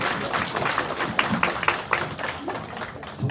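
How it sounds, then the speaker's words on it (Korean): A church youth congregation claps warmly for high school seniors just back from the college entrance exam, a short burst of dense, fairly close applause with distinct individual claps standing out. "수능을 치르고 온 우리 고3 친구들을 위해서 뜨겁게 한번 격려의 박수를 치러드리겠습니다"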